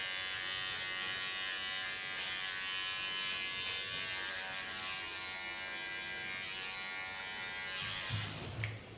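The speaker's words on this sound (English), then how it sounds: "Take a small clipper." A small electric hair clipper trimming hair, a steady close buzzing hum running throughout with slight shifts as it moves, no talking.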